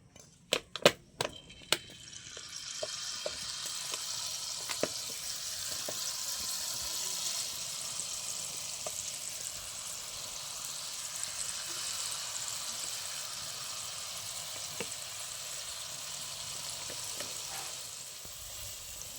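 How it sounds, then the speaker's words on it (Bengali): Jalebi being fried a second time in hot oil, a few sharp clatters at the start, then a steady, close hissing sizzle that continues throughout with occasional small pops. "তত সময় আমি আরেকবার ভেজে তুলে নিচ্ছি।"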